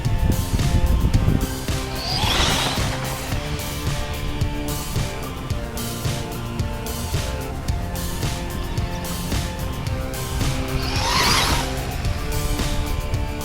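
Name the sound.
Losi Promoto MX RC dirt bike drifting in dirt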